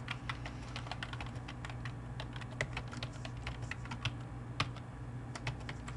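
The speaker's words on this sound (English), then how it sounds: "we just type along as if we're ordinarily typing the expression" Steady typing on a computer keyboard while entering a Lisp expression in the 1980s Interlisp SEdit editor, a continuous run of quick light key clicks with occasional sharper strikes over a low steady machine hum.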